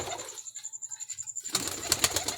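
Pigeon cooing softly in a low, pulsing rhythm from a close bird, followed by a burst of rustling and flapping noise; no talk.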